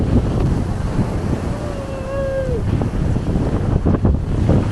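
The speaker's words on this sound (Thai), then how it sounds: "คลื่นแรงมากทุกคน" Strong ocean waves and gusting wind on a cold American shore, a constant loud roar with heavy wind buffeting on the microphone and a faint tonal whine partway through.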